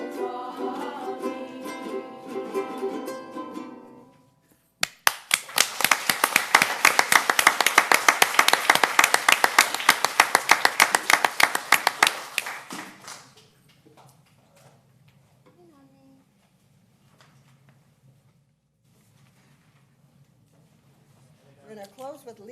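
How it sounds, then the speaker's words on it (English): An audience claps along in a steady, even rhythm at a school governing board meeting, a loud dense patch of hand claps lasting several seconds, preceded by singing and followed by quieter murmuring. "we welcome you to clap with us"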